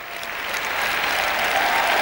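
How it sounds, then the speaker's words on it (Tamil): Audience applause at a sermon on responsible behaviour, a broad wash of many clapping hands swelling slightly louder and holding steady, with no voices on top. "இதற்கு கொஞ்சமாவது கைத்தட்டலாம்"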